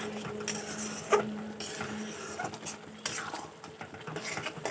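Chicken masala being stirred and fried in oil for a spicy Bengali chicken kosha, with steady scraping and clinking of a utensil against the pan over a soft sizzle, close and moderately quiet.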